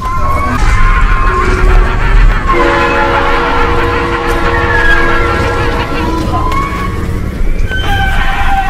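Choo-Choo Charles, the monster train from the video game, blasting a loud sustained horn over rumbling rail noise, with shifting tones and screeches throughout.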